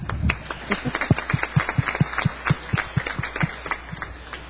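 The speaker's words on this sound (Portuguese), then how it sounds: "Então, palmas para mim, pessoal." Applause from a lecture audience, a thin scattering of distinct claps from a small group in a regular rhythm, sparse and fairly close, fading slightly toward the end.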